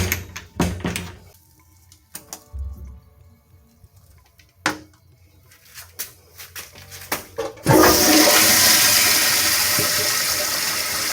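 A Kohler Highline toilet in a boat club men's restroom flushes loudly and close by with a sudden rushing surge that slowly tapers off, after several seconds of scattered knocks and clatter in the stall.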